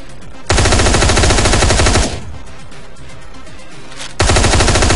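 Gunfire in the video game Hotline Miami, loud rapid bursts of automatic fire, one long burst, a quieter pause, then another burst starting near the end.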